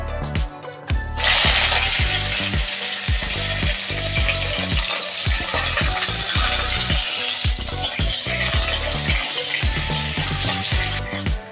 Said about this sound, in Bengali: তারপরে করলাটাকে একটু ভেজে নেব।